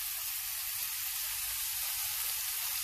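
Tomato and ketchup are added to vegetable egg fried rice in a hot pan, which gives a steady, loud, close sizzle with a constant hiss throughout and no voices.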